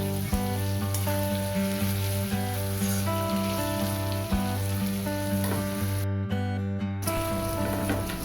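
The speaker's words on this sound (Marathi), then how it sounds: "आपण 1 टेबलस्पून अद्रक लसूण पेस्ट टाकू, छान परतून घेऊया।" Ginger garlic paste sizzles and fries in a pan while vegetable pulao is cooked. A steady, crackling hiss runs under sustained background music, with no talking.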